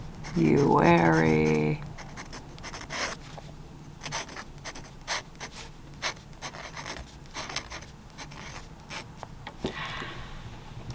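A dip pen scratches across paper in a series of short, dry scribbling strokes. The strokes are close and crisp with pauses between them, and a brief voice opens the passage.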